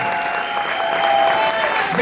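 Loud, dense applause from a large seated-then-standing audience at a motivational seminar, continuous and steady throughout with a busy crowd wash and some tonal hum underneath.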